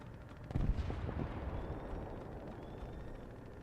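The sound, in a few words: artillery hit in a video game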